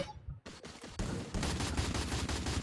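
Gunfire in the video game Free Fire: a few sharp single shots, then sustained rapid automatic bursts that fill the rest, loud and close.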